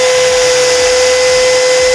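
A new Stanley cordless drill set to torque 7 drives a screw into soft wood with a loud, steady, high motor whine, close up and continuous throughout.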